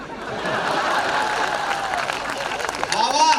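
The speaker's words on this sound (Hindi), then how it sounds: "तालियां कम रह गई थोड़ी सी आपकी।" A live audience at a Hindi comedy and humorous poetry show in Bhilwara claps and laughs, a steady wash of applause with crowd noise and scattered voices underneath.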